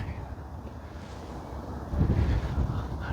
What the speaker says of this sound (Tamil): நல்ல ஒரு காற்று, சூப்பராக இருக்குங்க.